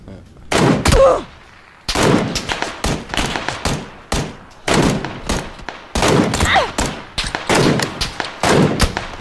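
Bursts of rapid gunfire in PUBG, a battle royale video game, come in loud clusters separated by brief gaps, with several sharp single shots and short automatic volleys near the listener.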